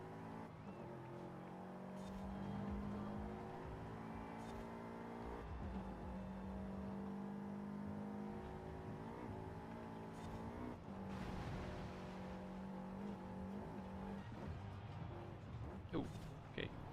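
A Subaru on a street setup driving in Forza Horizon 5, its engine droning steadily with shifting pitch and brief gear changes, loud and continuous throughout.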